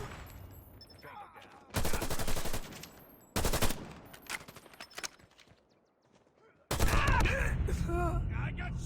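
Call of Duty Mobile gunfire: loud automatic bursts break out in several separate volleys, with quieter game sounds and voices between them.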